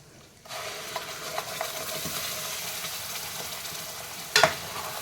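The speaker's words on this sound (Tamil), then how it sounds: "இப்போ அரைச்ச மசாலா இருக்குது இல்லையா அது வந்து இந்த எண்ணெயிலே போட்டுக்கலாம்" Ground masala paste frying in oil for a karamani and brinjal puli kulambu, a steady close sizzle that starts abruptly after a quiet moment, with faint stirring taps and a brief louder clatter near the end.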